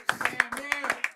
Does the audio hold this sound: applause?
yes